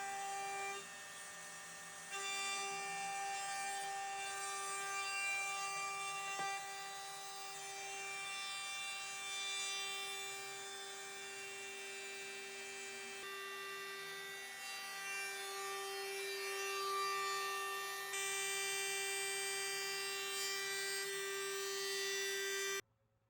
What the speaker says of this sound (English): I'm actually using a 1-inch wide spoil board surfacing bit to carve out the majority of the material